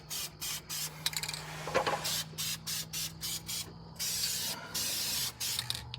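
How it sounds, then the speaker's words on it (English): Aerosol can spraying onto the master cylinder lid of a Ford F100 truck in a series of short bursts with a few longer hisses, close and fairly loud, broken by brief pauses. "Can't hurt to spray the top,"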